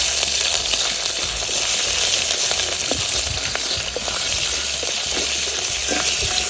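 Curry leaves and ginger-garlic paste fry in hot oil with a loud, dense, continuous sizzle and crackle, steady throughout with faint stirring.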